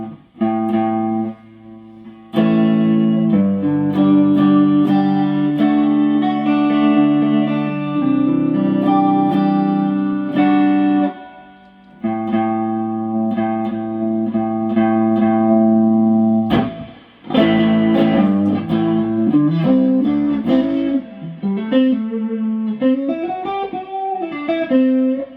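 Electric guitar driven through a TWA Source Code overdrive pedal, sustained chords and held notes with a slightly lowered drive, ringing loud and alone, with a bend-laden phrase near the end.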